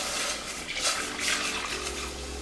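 Milk pours steadily into a pot for homemade cheese, a continuous close liquid stream with soft splashing and gurgling throughout.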